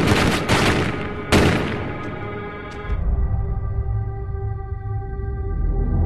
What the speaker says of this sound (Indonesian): Oleh sebab itu, polisi memberondong peluru